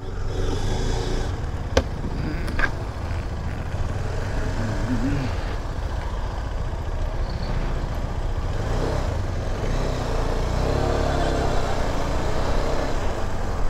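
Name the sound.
heavy road traffic on highway from Delhi to Punjab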